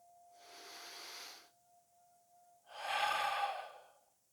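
Deep breaths during a yoga breathing exercise: a soft airy breath lasting about a second and a half, a pause, then a fuller, louder exhale, close and quiet.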